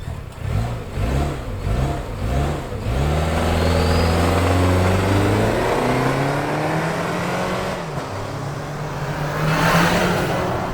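A Toyota Land Cruiser hybrid with a turbo launches from a standstill in sport mode, its engine revving up loud and close, climbing steadily before a gear change and renewed pull.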